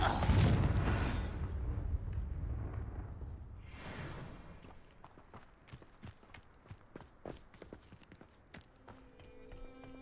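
A Confringo fire spell bursts in Hogwarts Legacy with a loud, broad explosive whoosh that swells and fades over a few seconds, followed by scattered sharp crackles and small impacts in a quieter battle scene.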